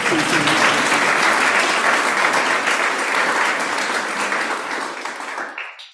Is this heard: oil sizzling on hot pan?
no